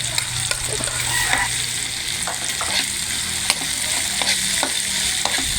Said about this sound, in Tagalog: Ilagay na rin natin ang dilis na tuyo.